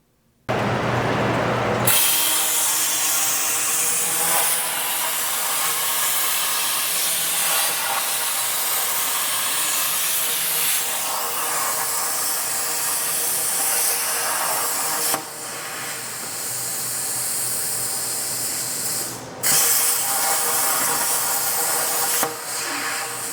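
A JD2 RC6 CNC rotary cutter working through square tube gives a steady, loud, broadband hiss and roar that runs unbroken for over twenty seconds, with a few brief dips and clicks along the way.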